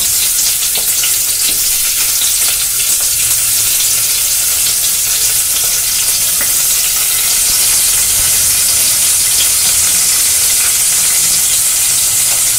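Thin-sliced onions sizzle steadily in hot oil in a pan for chowmein sauce, a loud, continuous close-up hiss with faint stirring scrapes underneath and no voices.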